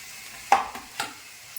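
Cut soybeans for a biryani tip into a hot pan and are stirred, giving two sharp spoon-and-pan clatters over a soft, steady sizzle, close and alone.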